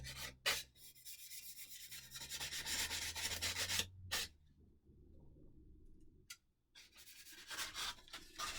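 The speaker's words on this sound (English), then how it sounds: "it kind of gives you the opportunity to sand with a block because it's got foam backing on it" Hand sanding with a foam-backed sanding block during a carbon build, producing close, soft scraping strokes in bursts separated by brief pauses, fairly quiet with no talk.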